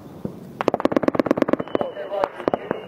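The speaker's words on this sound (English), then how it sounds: "and we're still taking fire" Rapid bursts of automatic gunfire from a firefight in Afghanistan, a dense string of sharp shots followed by scattered single cracks, loud and close, with radio chatter mixed underneath.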